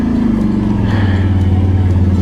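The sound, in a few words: car engine revving in low gear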